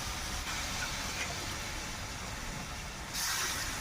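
Water hits a hot pan of sautéed vegetables, giving a loud, unbroken steam hiss that fills the whole moment and surges slightly stronger toward the end.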